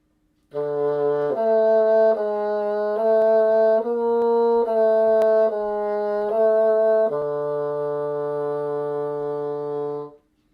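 A bassoon plays the opening measures of a piece alone: a sequence of sustained, reedy notes stepping between pitches over about ten seconds, clear and close.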